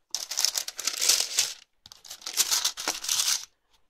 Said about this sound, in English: usual tissue paper and ribbon.